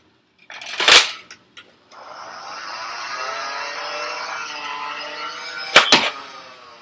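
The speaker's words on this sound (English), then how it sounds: "as you might have seen, I pulled the trigger, and it didn't go down" A Nerf Mega Motostryke flywheel blaster with a faulty trigger: two sharp plastic clacks at the start, then a steady motor whir that runs for several seconds before another pair of loud clicks near the end.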